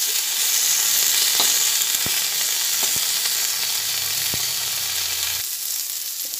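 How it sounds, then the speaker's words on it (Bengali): Neem leaves frying in a pan with vegetables for nim patar jhol, a loud, steady hissing sizzle with a few sharp clicks of a spatula, which cuts off near the end. "নিম পাতাটা একটু ভেজে নিলাম, নাহলে পিঠাটা একটু বেশি লাগবে।"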